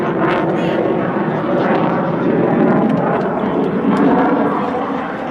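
A fixed-wing aircraft of an air force squadron flies past at the Archangelos 2005 airshow, its engine a steady, loud broadband roar sustained throughout, as if heard from a crowd at moderate distance.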